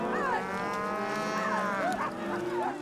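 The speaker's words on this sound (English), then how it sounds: "After getting somewhat comfortable on pushing the cattle forward, now Joe got to a certain fork" Cattle low steadily in a droning chorus, several overlapping moos rising and falling at moderate distance with no break.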